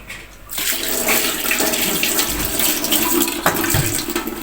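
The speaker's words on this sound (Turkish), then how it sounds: "Ya bu suyla oynuyor." A small child splashes and plays with running water at a home kitchen sink, a steady broadband rush of flowing water with irregular splashes, close and fairly loud, starting after a brief quiet moment.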